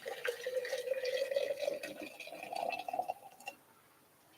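Water pours steadily from a pour-over kettle for a coffee brew, a close, continuous trickling stream lasting about three seconds before it stops.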